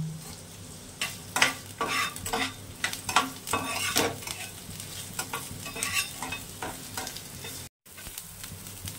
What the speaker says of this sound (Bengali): পেঁয়াজটা, বড় পেঁয়াজটা, রসুন একসঙ্গে হালকা করে ভেজে নেব।